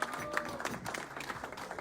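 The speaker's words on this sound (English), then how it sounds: "Ladies and gentlemen, a round of applause as she comes to the stage." A crowd at a live political event in America applauds as a woman comes to the stage, a quiet, brief burst of clapping with a few scattered accents.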